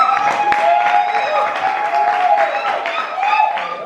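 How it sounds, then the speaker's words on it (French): Audience applause and some cheering welcoming the president at a community association's Christmas tree party, heard up close alongside a sustained tonal sound like music or feedback, with voices mixed in. "sur vos applaudissements, on accueille la présidente"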